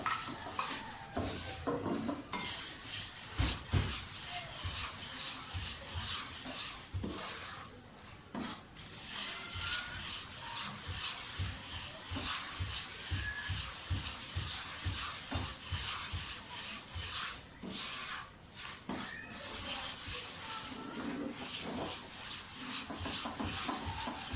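Semolina with small cardamom being stirred and roasted golden brown in a pan for egg semolina halwa, giving a steady scraping and clinking of a spoon against metal with a faint sizzle, close and continuous throughout.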